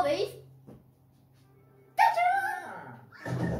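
The ghost dog from Luigi's Mansion 3 on Nintendo Switch barks in short, bright bursts, one at the start and a fuller run in the middle, with game sounds between and after.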